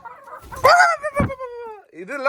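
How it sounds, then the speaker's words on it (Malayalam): Close hens cluck and squawk in short, rising calls, with a few sharp bursts and a drawn-out cry near the end. "അച്ഛൻ വളർത്തുന്ന കോഴികളാ"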